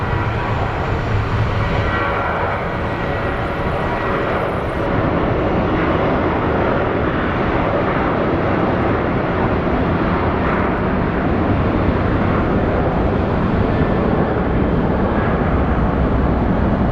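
A jet airliner at Phoenix Sky Harbor International Airport roars steadily and loudly for the whole stretch, a broad continuous rumble with no talk over it.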